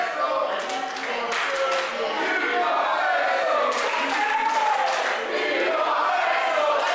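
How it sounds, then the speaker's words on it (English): A live wrestling crowd at a local event shouts and cheers in a sustained roar, with scattered claps and yells rising and falling, loud and close throughout. "And the crowd getting right behind it."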